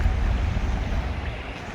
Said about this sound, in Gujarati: હુસેનભાઈની બોટને અલવિદા કહેવા જાય છે ફિશિંગ માટે.